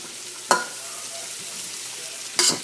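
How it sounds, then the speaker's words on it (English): Broccoli florets stir-fried in a pan over slightly lowered heat, a steady sizzle broken by two sharp bursts as the utensil tosses the florets, close up and without speech. "You're going to stir fry this."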